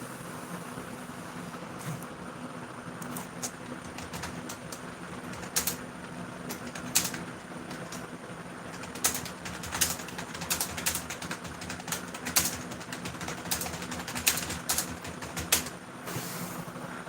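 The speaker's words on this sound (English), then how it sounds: "Sorry, I'm not busy, I'm just typing." Someone types on a keyboard indoors during a live stream, with quiet irregular bursts of key clicks over a low steady hum.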